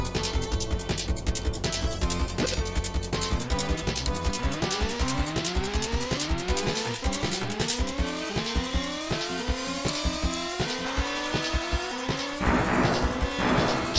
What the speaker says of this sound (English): I'm hitting freaking trees left and right